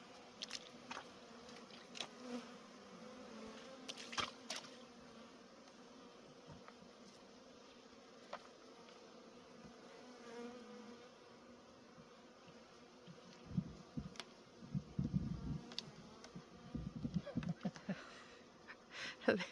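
Honey bees hum faintly and steadily in an opened hive after winter, in a colony facing early queen failure; soft voices and handling noises come through at times, growing busier near the end.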